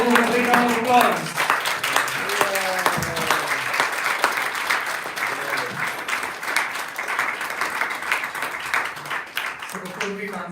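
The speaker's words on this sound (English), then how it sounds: "Let us thank Krishna for a big round of applause." Big round of applause from a crowd at a religious Festival of a Thousand Lights, dense clapping that swells and runs steadily, with voices talking over the start and end.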